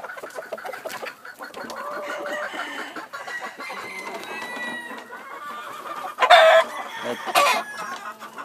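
Close, repeated clucking from a black Jap Asil Peru gamefowl hen, with a sharper loud squawk or crow bursting out near the end and no voices.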